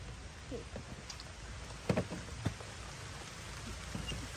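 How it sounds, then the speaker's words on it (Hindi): Faint, steady rain falls outdoors as a soft, even hiss, with a few light drips and knocks standing out and no one speaking. "देखो मौसम भी कितना अच्छा है, बारिश हो रही है।"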